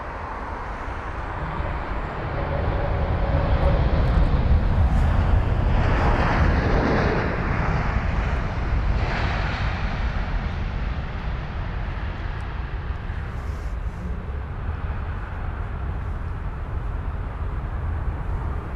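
A jet airliner lands on runway 27 right at London Heathrow, a loud sustained broadband roar that swells early, then settles into a steady rumble as it rolls out.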